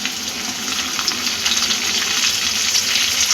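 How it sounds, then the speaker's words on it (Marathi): Stuffed capsicum peppers sizzle loudly in hot oil in a home kitchen, a steady dense crackling hiss with small pops throughout and no voices. "आणि त्यामध्येच आता आपण ह्या ढोबळी मिरची अलगद असं सोडून द्यायची."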